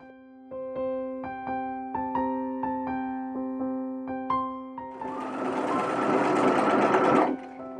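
Sewing machine stitching a sweater: a series of distinct whirring stitch bursts with short pauses, then one longer, louder continuous run of stitching close by.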